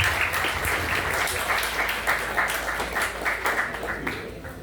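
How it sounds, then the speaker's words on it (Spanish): Audience applause at a municipal presentation of a professor's scientific research results, steady dense clapping throughout, moderately loud and close with faint voices mixed in. "Pido un aplauso para ustedes presentes y también para Luis Barría por su apoyo"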